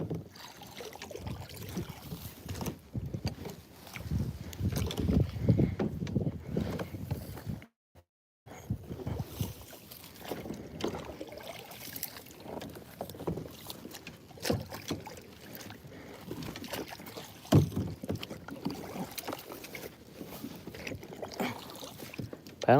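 Kayak paddle strokes splash and drip as the boat is paddled backwards through grassy water, soft irregular sloshing close by with a brief quiet gap partway through.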